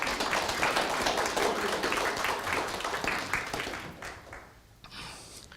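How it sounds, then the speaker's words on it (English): An audience at a First Friday gathering claps in a moderate, dense patter of many hands that fades out over the last couple of seconds, with no voices over it. "I don't need clapping."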